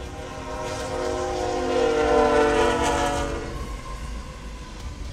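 A train passes a level crossing, sounding a long, loud horn that swells toward the middle and then fades, with the rumble of rail cars underneath and no voices.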